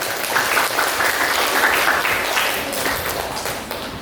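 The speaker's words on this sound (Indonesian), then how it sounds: "Dipersilakan. Tepuk tangannya dong." Audience applause at a formal industry-visit ceremony, a steady dense wash of many hands clapping at close range, holding evenly for about four seconds with no voices over it.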